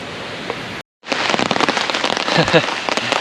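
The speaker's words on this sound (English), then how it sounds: "another rainstorm's coming through" Rain sweeping through a campsite with a tent, fire pit and tarp, a dense steady patter of drops close by, briefly cut off near the start and then crackling on without a break, no talk over it.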